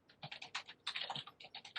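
Rapid irregular keystrokes on a computer keyboard clatter in bursts throughout, fairly close but quiet, with no talking during a remote science mission meeting call.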